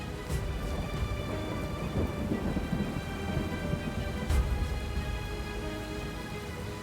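A heavy thunderstorm, with steady loud rain pouring down and rolling thunder rumbling low beneath it, continuous throughout with a sharper crack near the end.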